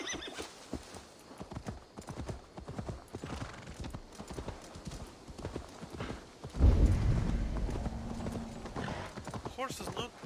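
Horse hooves clip-clop at a steady trot in Assassin's Creed Valhalla, with whinnies and game speech mixed in; the hoofbeats grow louder and busier partway through.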